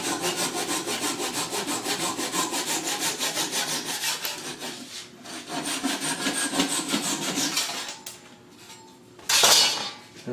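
A hand saw cuts through a wooden leg joint on a Roubo workbench with rapid, rhythmic rasping strokes close by. The strokes change tone and pause near the end, followed by a brief louder scrape.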